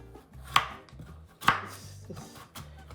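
A knife chops through hard pumpkin in a home kitchen: three heavy, separate thuds about a second apart, close and clear over a low steady background hum.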